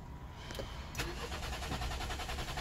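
A BMW F33 with a water-damaged short circuit in the starter relay circuit gives a click and a steady mechanical whir as the start-stop button is pressed, with a continuous engine-like drone.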